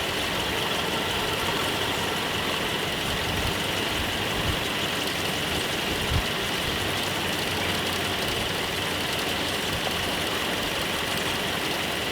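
A Nissan 720 ST truck, a Datsun rescued and started for the first time in years on old spark plugs, runs at a steady, loud, rough idle from start to finish with no other sounds.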